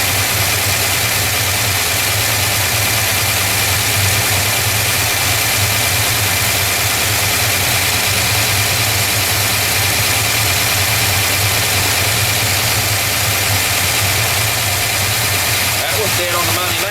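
A car engine fitted with a Holley carburetor idles steadily and loud throughout while the carb is being adjusted, a continuous low rumble with a slight change near the end.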